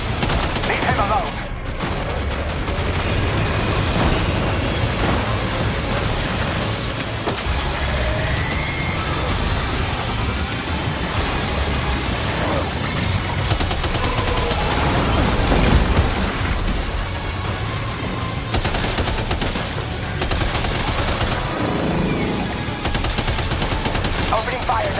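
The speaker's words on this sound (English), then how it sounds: "Opening fire now." Dense gunfire and explosions in Death Stranding 2 fill a loud, continuous battle soundscape with overlapping shots, booms and rumbling, with voices talking underneath.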